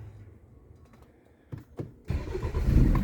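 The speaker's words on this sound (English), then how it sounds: "we're going to go ahead and start up my BMW" A BMW engine with an exhaust issue cranks and fires up: quiet interior, a couple of clicks, then the starter catches and the engine settles into a rising idle rumble, with no talking.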